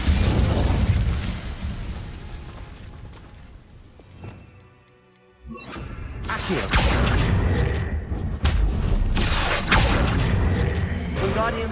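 A fire spell cast in Hogwarts Legacy, a rumbling blast with loud bursts and pops in a cave setting, dipping briefly before a sharp surge of crackling, booming impacts that continue to the end.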